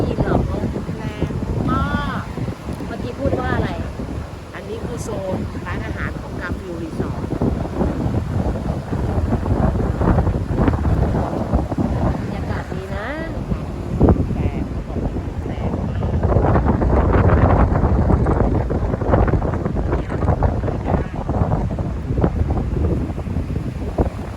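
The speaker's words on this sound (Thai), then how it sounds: "ลมแรงปะ" Strong seaside wind buffets the microphone in heavy, rumbling gusts on a beach at Khao Sam Roi Yot. The roar swells and eases and peaks near the end, while people talk underneath.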